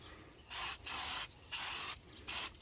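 Four quick bursts of aerosol brake cleaner hiss close by on a Mercedes Sprinter's front brake rotor, each lasting about half a second with short pauses between them.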